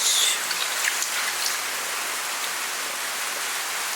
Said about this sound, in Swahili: Sasa tunaweka maji yetu.